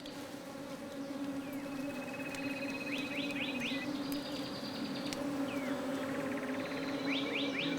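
Bees buzz steadily at a nest built inside an abandoned burrow in Kenya, a continuous close drone, with faint bird chirps above it.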